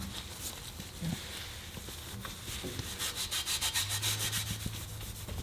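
Rubbing and buffing polish onto the exhaust tips of a BMW E39 M5, a faint, steady close scrubbing that turns into quicker rhythmic back-and-forth strokes near the end, with no voices.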